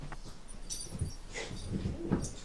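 A puppy whimpers and yips softly in a home with several short whiny cries scattered across a couple of seconds, close by and moderately quiet, with no talking.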